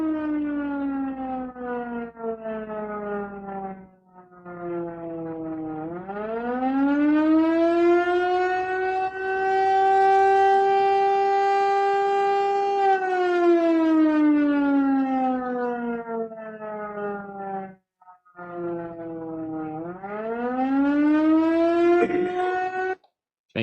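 A town civil defense siren, recorded from a house's backyard, wails in long rising and falling cycles, swelling to a sustained howl and dipping between sweeps, loud and alone throughout.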